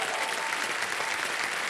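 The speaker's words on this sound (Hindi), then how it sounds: "तालियां बज जाए इनके लिए।" Studio audience applause on the KBC television quiz show, a short, even wash of many hands clapping at a steady level with no talk.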